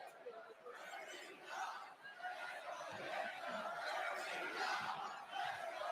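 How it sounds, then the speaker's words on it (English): A loud wrestling crowd at a live WWE arena event yells and cheers in a dense, swelling roar that builds toward the end, with chatter and a little laughter mixed in. "Very vocal crowd all night long."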